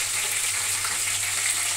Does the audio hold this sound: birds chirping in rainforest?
no